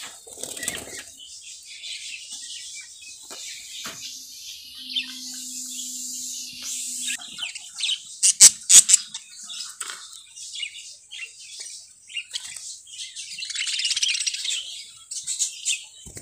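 Pet budgies moving about a newly set-up cage give bursts of fluttering, flapping wings along with light chirps and tweets, close by. Some sharp rattles and a louder flurry come midway, and there is no talking.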